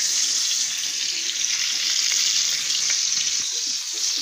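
Meat sizzles steadily in a hot pan, a loud continuous hiss with faint crackles and no pauses, with no talking over it.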